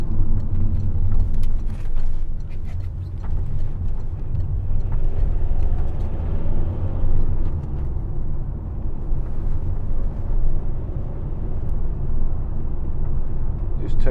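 A 2015 Toyota ProAce 2.0 HDi 1200 L2H1 van cruising on a motorway, with a steady low engine drone and road rumble mixed with cabin and wind noise, continuous throughout.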